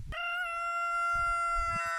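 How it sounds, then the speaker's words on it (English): A homestead rooster crows once in a long, loud, close call with a rich harmonic tone that holds steady for nearly two seconds, while low rustling and soft clucking noises sit underneath toward the end. "Yes, that is our rooster."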